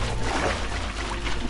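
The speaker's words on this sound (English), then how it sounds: "so it's like a waterfall curtain." A waterfall curtain in Minecraft gives a continuous rushing, pouring hiss of flowing water, steady and fairly loud, with no talking.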